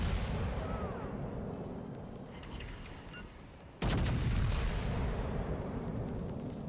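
A battleship fires high-explosive shells in World of Warships Legends, a naval battle game. One sharp, loud blast cuts through a dense, continuous roar of combat noise and gunfire.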